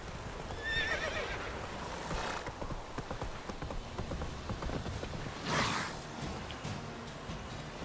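The horse Roach in The Witcher 3: Wild Hunt gives two clear whinnies, one early and one later, over steady clip-clop hoofbeats and faint outdoor ambience.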